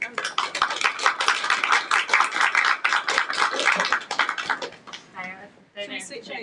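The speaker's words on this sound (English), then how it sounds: "Round of applause." A meetup audience at the Staffs Web Meetup gives a dense, steady round of applause for about five seconds, fairly close and loud, before it dies away and a voice begins talking.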